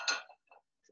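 A small frying pan is handled in a home kitchen, making a few brief metallic clinks and taps, one loud knock followed by fainter clatter, with no talk.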